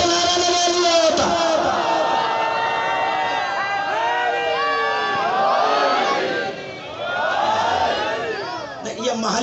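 Large crowd at a Muharram majlis in an imambargah raising a religious slogan together, many voices shouting and chanting loudly and continuously, with a brief dip near the end before the voices swell again.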